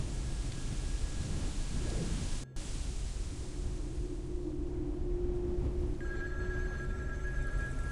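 In the video game SCP: Secret Files, a phone booth telephone rings under a constant rumbling, rain-like ambience. A thin electronic ring tone sounds faintly early on and returns louder in the last couple of seconds.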